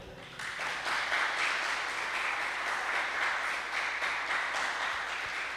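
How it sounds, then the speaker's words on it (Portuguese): Congregation at a Sunday celebration church service claps together in sustained, dense applause that fills the room steadily for several seconds, with no speech over it. "Aplauda o Senhor, amém?"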